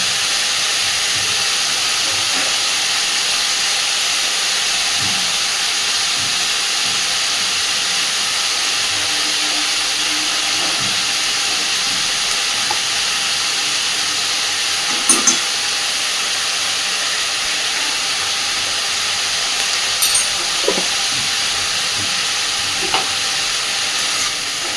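Ivy gourd (kudri) fries with salt and turmeric, giving a steady loud sizzle with hissing steam throughout and occasional sharp clinks of a spatula stirring in the pan.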